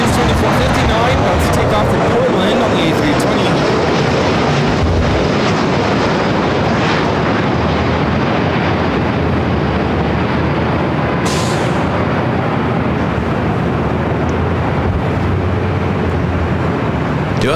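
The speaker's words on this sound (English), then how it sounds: "That's Airlines 2459 about to take off to Portland on the A320." Airbus A320 airliner taking off at LAX, a broad, loud jet roar that holds steady throughout with a brief higher hiss near the end.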